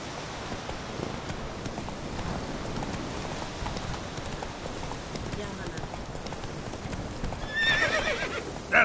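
Geralt's horse Roach galloping in The Witcher 3, steady hoofbeats over a broad rumble of movement with a faint rain-like hiss, and a brief sharp sound near the end.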